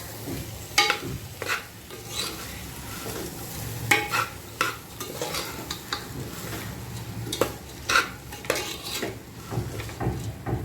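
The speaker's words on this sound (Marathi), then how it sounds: "धुवून घेतलेला राईस मसाल्यांबरोबर आपल्याला छान मिक्स करून घ्यायचा आहे" Washed rice gets stirred with spices in a pot before pressure cooking, a close run of repeated scraping knocks and clinks of a spoon against metal over a low sizzle, steady and without talk.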